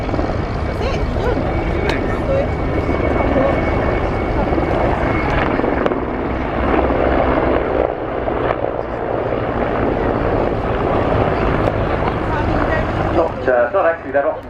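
Mixed types of helicopters flying in formation at the RIAT air show, a loud continuous rotor and engine roar passing overhead for the whole stretch, with a voice talking over it.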